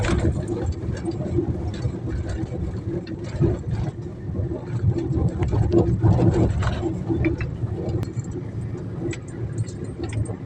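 A vehicle drives along a rural road past farm fields at night, its engine and road noise making a steady, close low rumble with light rattles throughout.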